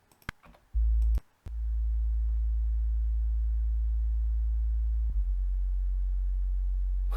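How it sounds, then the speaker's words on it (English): A synthesized sub bass drones as a deep, very low steady tone, entering after a couple of brief clicks and holding evenly, with a small shift in pitch partway through; nothing else is heard around it. "that's the sub bass filling up those lower frequencies."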